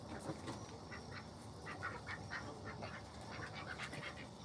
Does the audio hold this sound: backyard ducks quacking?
yes